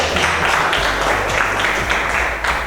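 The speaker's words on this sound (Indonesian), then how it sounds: "Ya, tepuk tangan dulu kan." A small group of participants in an Indonesian academic coaching supervision session clapping together, dense and fairly loud across the whole moment, with a low steady hum underneath.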